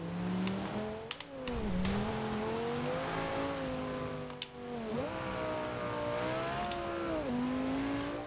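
Car engine in Forza Horizon 2 racing on a wet road with race tires, revving steadily with pitch dips at gear shifts and brief tire noise as it slides, no talking.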